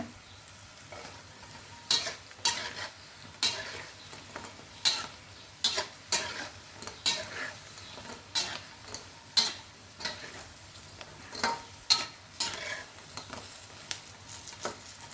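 Pork intestines fry in very hot oil with a steady crackling sizzle, broken by repeated sharp clanks and scrapes of a utensil stirring nonstop, close and loud.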